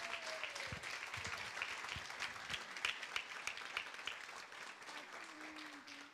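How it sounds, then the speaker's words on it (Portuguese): An audience at a psychoanalysis lecture applauds, dense continuous clapping that fills the room at a faint, distant level, with a few stray voices and tones under it. "Vamos aplaudir a Deus."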